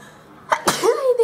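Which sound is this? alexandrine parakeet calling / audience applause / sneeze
sneeze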